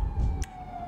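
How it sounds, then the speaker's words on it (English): Police sirens in the GTA V video game wail steadily as a high continuous tone through the whole brief moment, over low rumbling game noise, with a short sharp burst partway through. "You hear all them sirens, dog?"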